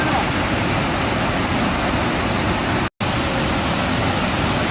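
Heavy rain pours down alongside rushing floodwater at the Gunung Pandan tourist spot, a dense, steady roar of water that breaks off for only a brief moment.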